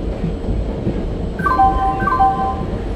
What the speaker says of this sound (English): Shatabdi Superfast Express is arriving at platform